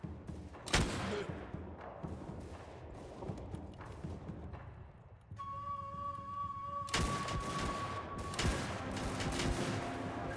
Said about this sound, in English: Just the constant barrage, because we have so many of them, so it's basically a constant volley.